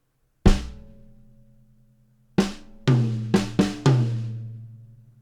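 Drum kit playing a single bar from a grade 2 drum solo: one struck hit, a pause, then a quick cluster of four snare and tom strokes, each ringing out with a pitched decay, loud and close with no talk.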